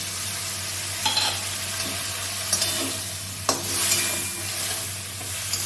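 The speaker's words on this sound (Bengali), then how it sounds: "এবার আমি মশলার জলটা দিয়ে দেবো।" Spiced water hits a hot pan for a Bengali drumstick, bitter gourd and potato chorchori, and a steady loud sizzle follows while a spoon stirs and scrapes the pan every second or so, close up, with no voices.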